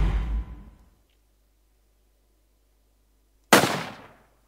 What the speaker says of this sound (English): It looks like a gun, sounds like a gun, but it should shoot like a bow.